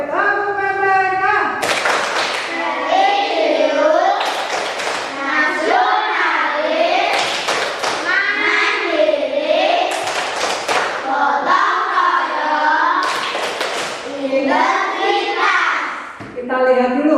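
Children in a classroom clap out a rhythmic group clapping game, bursts of hand claps alternating with a chanting, sung voice leading along in between.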